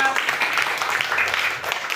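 A classroom group claps together after a lesson on force, a steady patter of hands with some voices mixed in, lasting throughout.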